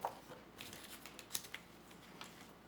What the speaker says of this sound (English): You just have to turn it over and cut it out.